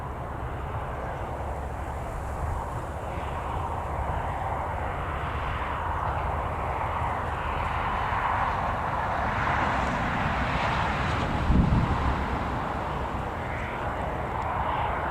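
An Embraer airplane lands at Newcastle Airport in a crosswind, a steady broad engine roar heard from a distance for the whole stretch, swelling slightly near the end.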